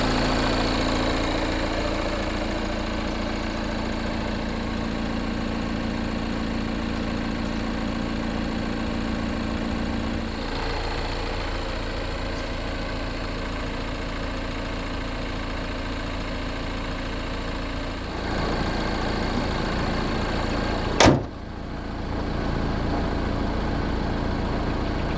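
A 2021 Renault Trafic Business van idles after startup with a steady, even diesel-like hum and rumble, continuous and close, broken once by a sharp click near the end, no talking.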